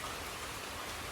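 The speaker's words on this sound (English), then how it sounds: "It just started to rain." Rain just beginning to fall near a lake in Arusha, Tanzania, at dark, a faint steady hiss of drops on surfaces with no voices.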